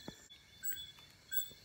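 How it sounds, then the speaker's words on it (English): Bats calling at night during frog hunting outdoors, heard as faint, repeated high-pitched chirps and ticks in short bursts, with a soft low thump near the start and no talk. "Listen to that noise. That noise is bats."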